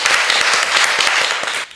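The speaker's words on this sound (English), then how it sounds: "Let's give him a big applause." Lecture audience applause in a hall, loud close-up clapping with individual claps audible in a brisk, dense rhythm that tapers off at the end.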